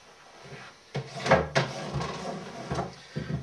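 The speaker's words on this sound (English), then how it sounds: "Just slide the tray in." A plastic tray slides into an acrylic bird cage, giving a few close knocks and scraping slides with a sharp clack around the middle, then softer taps at the end.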